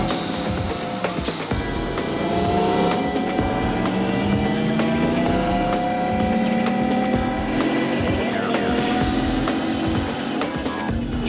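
A car engine held at redline spins an unmodified tire against a surface, a steady loud high-revving drone with rising and falling pitch sweeps, continuous and close for the whole stretch.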